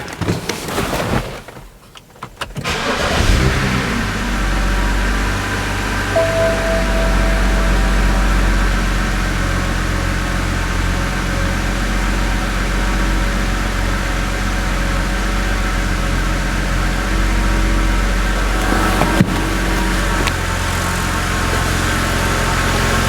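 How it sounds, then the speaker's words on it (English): BMW car engine, previously faulty with Vanos trouble and now with spark plug and ignition coil refitted, cranks and fires up about two seconds in, then settles into a steady, close idle hum for the rest. "let's fire the engine up and see if we have got a fix"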